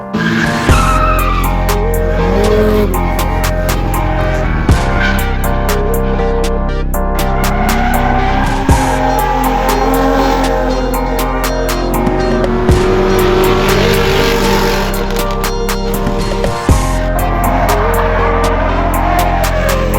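A Nissan 350Z drifting on a race track, its tires squealing in long, loud, wavering screeches over a steady engine drone for the whole stretch, close and sustained.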